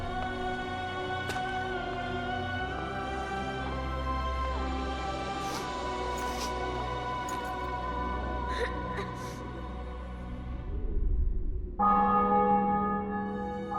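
Church bells ringing in The Witcher 2: Assassins of Kings, a sustained layered peal of tolling bells with long ringing tones, joined by faint voice-like sounds, then a brief swell and a fresh bright strike near the end.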